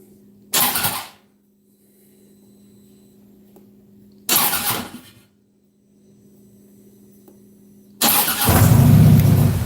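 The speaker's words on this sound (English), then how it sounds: "All I'm doing is turning the motor over to get whatever little oil that's sitting on top of whatever" A 2015 Harley-Davidson Road Glide motor is bumped over by its starter in three short cranking bursts separated by quiet hum. The last burst runs longer and louder, close by, with no talking.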